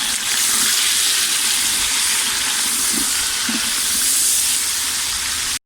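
Chicken tipped into a pot of frying ginger paste sets off a loud, continuous sizzle and hiss that holds steady throughout, with no speech over it.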